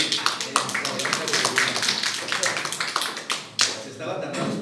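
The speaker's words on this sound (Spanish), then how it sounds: "Aplauso para Viridiana" Scattered, uneven hand claps from a small audience in a workshop setting, sharp separate slaps rather than a full ovation, with talk mixed in underneath.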